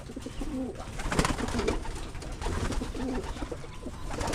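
Pigeons coo and flutter inside a loft, a continuous layered murmur of throaty calls with soft wing and shuffling noises, close and steady throughout.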